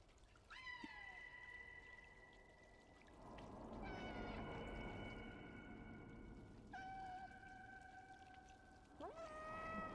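Several cats meowing in the Stray video game, with long drawn-out calls spread across the scene over a steady background hum of the game's ambience.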